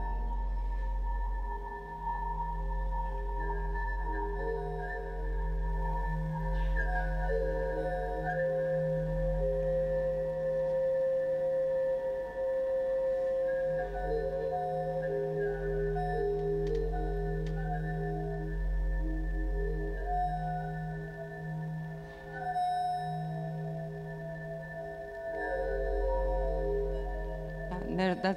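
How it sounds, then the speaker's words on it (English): Sound art machine driven by the movement of clouds, shown at an art biennale: a steady, dense electronic drone of sustained layered tones with a deep low hum and occasional faint chirps, continuous and loud throughout. "The sound you hear is after the movement of the clouds"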